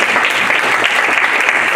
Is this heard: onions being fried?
no